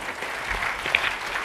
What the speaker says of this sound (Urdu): ویمن لیگ کے لیے بہت بڑی کلیپنگ کریں